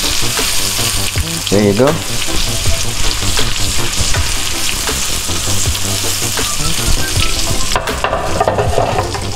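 Garlic and ginger sizzle and stir-fry in a hot pan for a sticky pork belly glaze, a loud, continuous crackling hiss broken by stirring scrapes, with a brief spoken remark over it.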